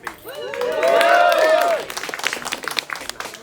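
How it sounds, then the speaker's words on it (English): Wedding guests burst into applause and cheering that swells quickly, holds for about a second and a half, then thins into scattered claps, with a raised voice or whoop riding on top. "I think we should raise a round of applause for them."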